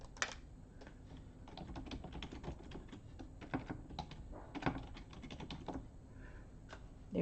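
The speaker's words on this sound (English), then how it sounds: "Let me type it in." Someone types a name on a computer keyboard: bursts of quick, crisp key clicks with short pauses between them, close and fairly quiet, with no talking.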